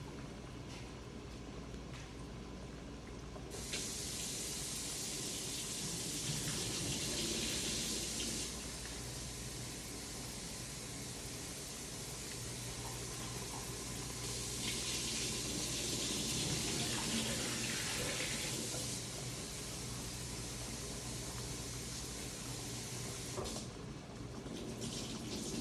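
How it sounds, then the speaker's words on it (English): A kitchen tap runs steadily while vegetables are rinsed beneath it, the water hiss swelling louder in two long stretches as the flow is turned up, then easing back, quiet and close with no talking. "I'm going to go ahead and rinse them off now"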